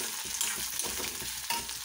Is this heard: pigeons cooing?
no